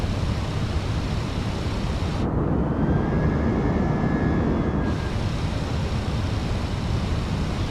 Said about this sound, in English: And the engines are slowly spooling up.